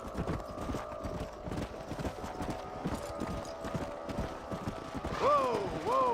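Horses in the video game Red Dead Redemption, hooves clip-clopping in a steady trotting rhythm under a low ambient drone, ending with a brief whinny-like tonal sound near the close.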